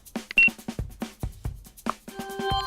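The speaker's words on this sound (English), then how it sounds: "The shorter the beep interval, the closer you are to getting caught." Electronic trace alarm beeps from the Uplink hacking computer game, short tonal blips repeating under choppy, clipped sounds, with a sustained tone building toward the end.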